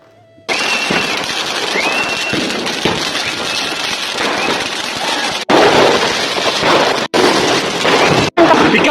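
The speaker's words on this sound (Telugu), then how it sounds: "ఈ పీకాక్ది కూడా బ్లాస్ట్ అయ్యాయి చూసారా" A peacock firecracker bursting outdoors during Diwali, a loud, continuous crackling and hissing barrage that starts abruptly and roars on close by, broken by a few brief cutouts near the end.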